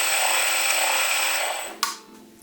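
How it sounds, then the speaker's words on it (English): A lathe running with an Arduino-driven lead screw moving the carriage, a steady whine and mechanical hum that cuts off near the end with a short clack, followed by fading rattle. "the lathe is going forward, but the lead screw is driving the carriage backward at the moment"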